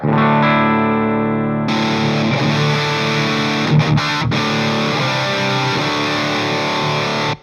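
An electric guitar plays sustained chords with a clean tone through a Riot Reloaded effects pedal, one long ringing chord followed by a brief strummed passage, loud and close with no talking.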